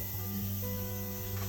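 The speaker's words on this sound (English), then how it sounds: "This is one of the coolest parts of the job, is watching the spray foam go on." Spray foam insulation being applied in a four-season sunroom gives a steady, continuous hiss with a low mechanical hum from the rig, unbroken and fairly close throughout.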